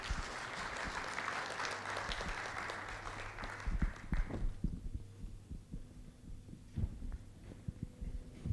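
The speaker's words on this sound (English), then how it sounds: "let's make them feel really welcome with a big round of applause" Conference audience at an emergency care session claps to welcome speakers, a moderate wash of applause over a low throbbing hum that thins out midway into scattered claps and room noise.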